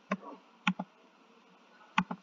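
Mouse clicks while modelling a pot shape in Shapr3D on a computer: four sharp, quiet clicks spaced unevenly, a pair near the start, another pair later, with faint room noise between.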